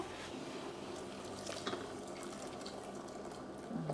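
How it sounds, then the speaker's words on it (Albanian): Hot water pours into a clay pot while cooking chicken liver in a traditional earthenware dish, a quiet continuous trickling splash close by with no talking. "Unë do t'i hudh edhe i çik ujë të nxehtë, gjithmonë ujë të nxehtë"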